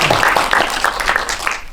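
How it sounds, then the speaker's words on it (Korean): Brief audience applause at a cinema talk after a Korean film screening, a dense run of hand claps filling the room, steady and fairly loud for under two seconds with no voices. "박수 부탁드립니다"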